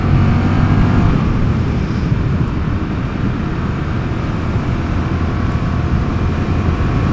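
A 2021 Honda CMX 1100 Rebel motorcycle turns around tightly in a street, its engine a steady, low, close rumble throughout with no talk.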